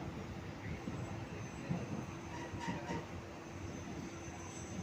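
A train rolls slowly along the Karimganj to Silchar line past flooded land, a steady low rumble of wheels and carriage noise holding level and fairly near throughout, with no voices.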